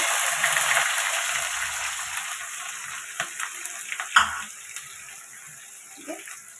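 Green chillies and onion fry in a pan for tomato gojju, a steady broadband hiss with scattered utensil clinks and stirring scrapes, fairly quiet and without talk.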